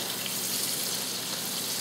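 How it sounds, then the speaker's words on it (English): Apples cooking in a pan alongside pork chops give off a dense, even sizzle, a constant hissing wash with no breaks over the short stretch. "Apples starting to cook up."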